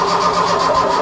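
A starter motor cranks the 1.1 engine of a barn-find Ford Fiesta Mk1 Ghia, an engine that tends to die after catching. A short, close, rhythmic whirring churn lasts about a second with no voices.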